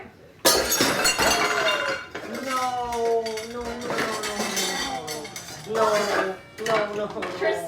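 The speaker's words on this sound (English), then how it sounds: "I broke Mom's bowl" A glass bowl breaks in a kitchen by the dishwasher with a sudden crash and clinking shards, followed by rattling and clinking of dishes. Voices talk and cry out over the clatter close by.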